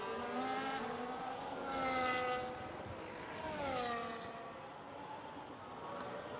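A race car at full throttle around the Jeddah street circuit. Its engine's high whine rises and falls in pitch as it passes through gears and corners, heard alone and fairly close.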